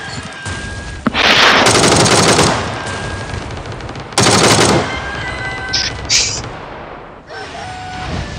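Automatic gunfire in the PUBG video game, loud bursts of rapid shots in two long strings with shorter bursts after, close and dominant with little talk.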